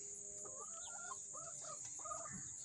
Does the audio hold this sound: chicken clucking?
yes